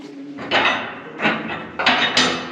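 Old anvil in an abandoned silver mine struck by hand three or four times, each hit a bright metallic ring that decays over about half a second, nearby and loud.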